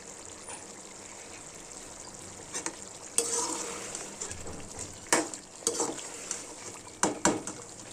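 Mutton being moved into a karahi pan for a street-style Karachi mutton karahi, with soft frying hiss underneath and a few louder scraping, clattering stirs toward the end; no talking.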